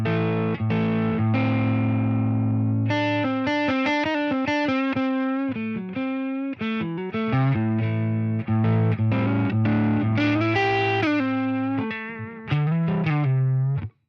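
Electric guitar through a mid-gain black-panel-style amp model, moderately overdriven, playing sustained notes and fast melodic runs, warm and slightly gritty.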